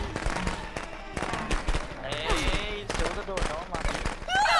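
In the Friday the 13th video game, firecrackers go off in rapid crackling bursts, a string of sharp pops close by, interspersed with players talking.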